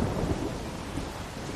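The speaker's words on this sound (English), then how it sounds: "Oh man, a storm?" Thunderstorm in The Walking Dead video game: continuous steady rain hiss with low rolling thunder rumbles, loudest near the start, with no voices over it.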